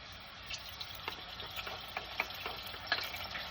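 Garlic paste and onions frying gently in a pan over low to medium heat, a soft steady sizzle with scattered small pops and ticks, close but fairly quiet.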